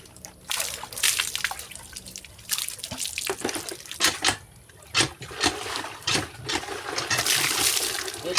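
Water splashes and drips during a bath in the provinces, with laundry soap in use; close, irregular pours and sloshing bursts with scattered drips, no talking.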